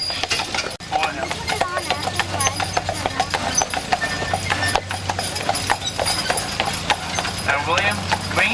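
Hooves of a horse-drawn wedding carriage clip-clop in a steady rhythm close by, with occasional snorts, while people talk over the hoofbeats throughout.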